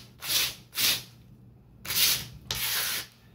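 A blade scrapes glue off the top of wooden deck strips on a model ship. Four separate rasping strokes come close and fairly quiet, with short pauses between them.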